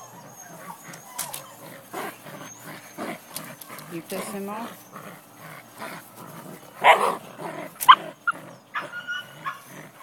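Black Belgian Malinois puppies yip, bark and whimper in a busy mix of short high calls close by, while people talk over them.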